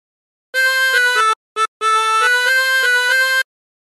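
A 20-hole tremolo harmonica plays a short phrase of The Battle Hymn of the Republic, with bright, wavering sustained notes in one steady run, a brief gap, then a longer held passage, close and alone.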